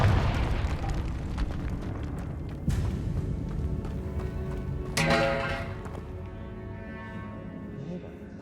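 A Confringo blasting spell inside a tomb in Hogwarts Legacy, a couple of distinct booming bursts with ringing tails, then the space settles into quieter ambience.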